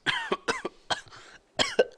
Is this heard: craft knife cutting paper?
no